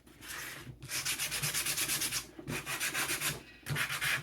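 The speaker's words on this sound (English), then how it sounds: "just that simple action of smoothing out some of those edges and corners" Sandpaper rubs over the wooden edges and corners of a handmade farmhouse-style wall lantern, rhythmic scratchy back-and-forth strokes in three quick bursts separated by short pauses, close and clear.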